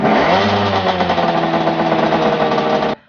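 A Skygo Wizard 175 motorcycle engine runs loud and close with a buzzy, rattling two-stroke tone, holding steady for about three seconds before cutting off abruptly.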